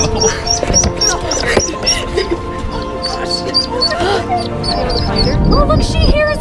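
Baby ducklings peeping and quacking just after being pulled from a sewer drain with kitchen tongs, high chirps repeating over a busy background of voices and street noise.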